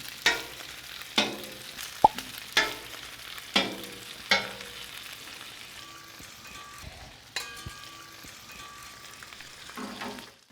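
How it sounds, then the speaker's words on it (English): Bacon strips frying in a pan for a chicken bacon ranch cheesesteak, a steady close sizzle broken by repeated sharp clatters and scrapes as the strips are flipped over and over, no voices. "key to me is just flipping it nonstop"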